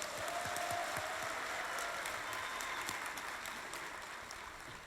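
Sustained applause from a crowd at a Korean political party rally for the 2017 presidential campaign, a dense steady clatter of clapping that stays fairly even and fades slightly toward the end.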